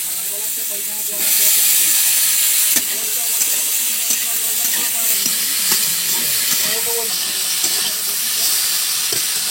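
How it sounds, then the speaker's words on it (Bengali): Bitter gourd and potato being stir-fried with prawns, mustard-based five-spice and ginger paste in a pan, giving a steady broad hiss and sizzle with scraping stirs throughout, rising louder after the first second. "এখন কেটে রাখা উচ্ছে আর আলুটা দেবো।"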